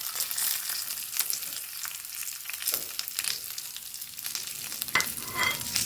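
Gentle sizzle of coconut and shallots frying in a pan, mixed with repeated scraping and stirring strokes of a spoon, fairly close and moderately quiet.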